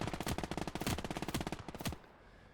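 An MG42 machine gun in the Gates of Hell war game firing one long, rapid, evenly pulsed burst at close range, then stopping abruptly into near quiet.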